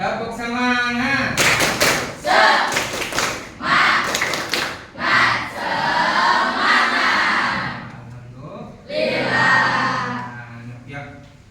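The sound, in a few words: schoolchildren doing the 'tepuk semangat' clapping routine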